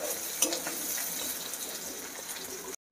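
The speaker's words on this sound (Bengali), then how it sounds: "পেঁয়াজটা লাল করে ভাজা হয়ে গেছে" Chopped onion fries soft and low in oil in a pan after the garlic, with occasional light stirring scrapes. The gentle steady sizzle plays alone and ends in a brief silence.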